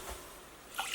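Water poured into a slow cooker holding jasmine rice, a brief soft trickle and splash, faint and close.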